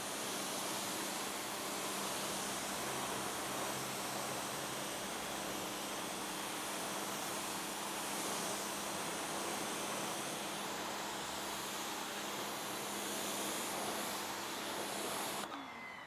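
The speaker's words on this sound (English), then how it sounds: "get your pressure washer, your garden hose, or any type of pressure, and rinse off the dirt or grime and debris" A pressure washer rinsing dirt and chemical off a car wheel, giving a steady loud hissing spray that continues unbroken throughout.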